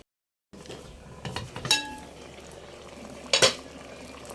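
A metal lid clinks onto a cooking pot of catfish simmering in coconut milk, with a couple of sharp metallic clanks and scraping over a low background sizzle, close and fairly loud.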